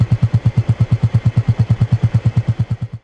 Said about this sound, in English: And the exhaust note sounds amazing too.